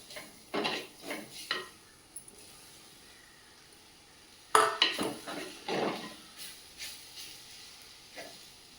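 Washed, squeezed soya chunks tip into a pan and get stirred for a soya curry, with a few close scraping and clattering strokes of a spoon against the pan in bursts and a faint hiss beneath.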